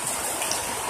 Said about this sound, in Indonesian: Sayangnya cuacanya tidak mendukung, sobat. Hujan.